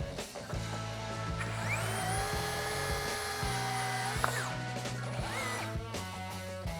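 Power drill spinning at high speed with a 32 mm DeWalt spade bit, a steady whine with a motor hum underneath that rises and drops away, close and moderately loud, with no talking.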